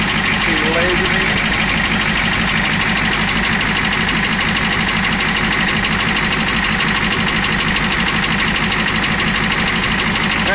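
A 1969 Ford F-250 truck engine runs with a rapid, regular knocking tick over a loud steady idle, close to the microphone and continuous throughout.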